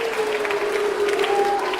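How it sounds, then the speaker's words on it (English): Audience applause at a magic show, a steady wash of clapping from the crowd, fairly loud and even, with a faint tone running beneath it. "Round of applause to James."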